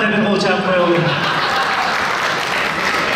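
Steady audience applause at a Kyrgyz roast comedy show, loud sustained clapping from a crowd filling the room, with a voice briefly audible at the start.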